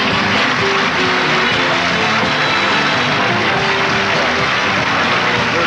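Studio audience at a 1972 Dean Martin Christmas television show applauding Rodney Dangerfield, a dense, steady wash of clapping that holds loud and continuous throughout with no break.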